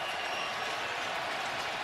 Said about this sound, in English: Crowd's re-energized.